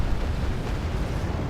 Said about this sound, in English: this M1A1 Abrams eventually gets destroyed